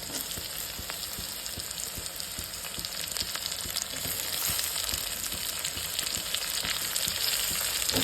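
Tomato and onion frying in a pan, a dense continuous sizzle with crackling pops, close and steady, growing slightly louder toward the end, with no voices.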